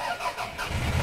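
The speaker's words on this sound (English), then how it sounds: "What you need to do is start up the engine" A poorly running car engine, misfiring on three of its four cylinders, starts and settles into a rough, uneven idle, moderately loud and close, with no speech.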